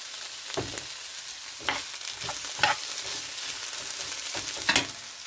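Sliced bitter gourd (ampalaya) sautéing in a frying pan, with a steady sizzle and several distinct scraping stirs of a spatula, close by with no talk.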